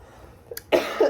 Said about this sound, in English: there's a real cough